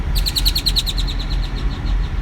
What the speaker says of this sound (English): A bird almost flew in my window.